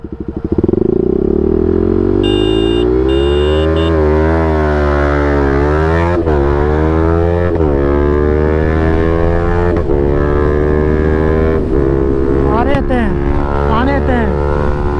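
A 2026 KTM Duke 200 with a decat SC exhaust accelerates hard in a drag race, its loud rasping engine climbing through rising revs with sharp breaks at each gear shift.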